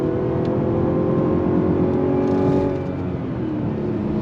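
A 2025 Mazda CX-70 SUV accelerating uphill with its 8-speed automatic, a steady, smooth engine drone heard from inside the cabin, with a slight dip in level partway through as it shifts, no voices.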